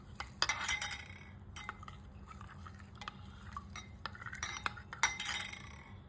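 Fennel seeds and eight cardamom pods washed and strained in a bowl for a homemade summer sharbat: wet clinks of a spoon against the bowl and brief trickles of water, close and fairly quiet, with no talking.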